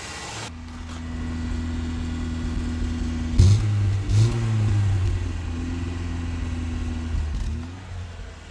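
A BMW X5 turns over and starts after sitting unused for over two months, then settles into a steady idle with a couple of rising revs in the middle before the engine shuts off.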